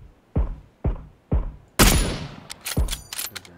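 Gunfire in PLAYERUNKNOWN'S BATTLEGROUNDS: three evenly spaced booming shots, then a louder crack with a sharp echoing tail, followed by a quick cluster of shots.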